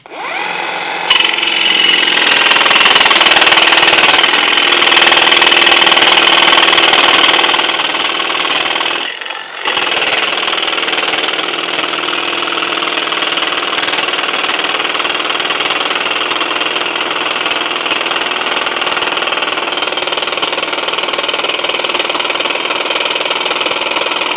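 A Bosch GST 12V-70 cordless jigsaw cutting at slow speed, a loud steady buzzing whine that runs continuously after a short start, with one brief dip partway through and no talking.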